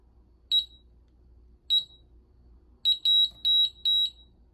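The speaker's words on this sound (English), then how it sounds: "Those 3 beeps mean the field has been programmed" Fire-Lite Miniscan 4824 fire alarm control panel sounding sharp, high-pitched electronic beeps: two isolated beeps spaced about a second apart, then a quicker run of four, with no talking.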